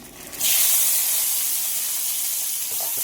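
Cicadas roast in a little oil in a pan: a steady, close sizzling hiss starts abruptly and holds loud and even.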